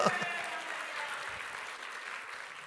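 A church congregation applauding during a Korean sermon, a soft, fairly distant wash of clapping that holds steady and fades slightly, with a faint voice at the very start.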